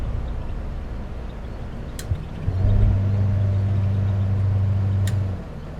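A 1960 Standard Vanguard Vignale drives in second overdrive, its engine a steady low drone heard from inside the cabin that rises in pitch partway through and holds there, with no talk.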